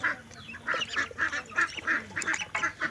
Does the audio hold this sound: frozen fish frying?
no